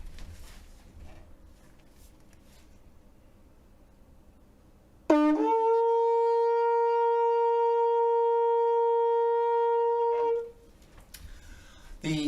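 A shofar sounds one long unbroken calling blast, a steady ram's-horn note held for about five seconds, loud and close, with faint room noise before and after.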